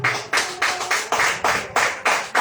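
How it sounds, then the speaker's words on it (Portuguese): A congregation at a church service claps in unison, sharp rhythmic handclaps on a steady beat, about nine strong pulses in quick succession, close and fairly loud. "Pode aplaudir ao Senhor Jesus Cristo esta noite."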